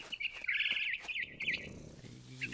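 A small bird in the game What Remains of Edith Finch chirps and trills in quick warbling bursts, close and bright over a quiet background, with no talk.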